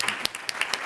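Conference audience clapping in a quick burst of scattered, irregular hand claps, moderately loud and close, with no talk over it.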